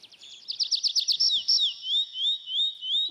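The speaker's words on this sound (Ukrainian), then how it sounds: "в Матвієму саду соловейко співає" Nightingale song used as a theatre sound effect for a garden, a run of quick bright chirps followed by long rising and falling whistled notes, clear and alone.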